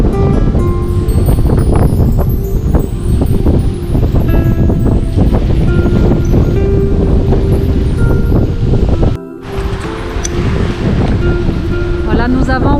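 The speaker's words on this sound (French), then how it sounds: "Il y a quand même des grosses vagues." Large ocean waves wash and surge around a sailboat on an open-sea crossing, with a steady loud roar of water and wind that dips briefly before resuming, and a voice talks over it.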